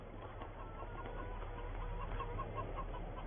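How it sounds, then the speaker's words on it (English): Chickens cluck softly in a snowy farm field, a faint, steady murmur of fowl chatter under low background rumble, with no talking. "Hello chickens."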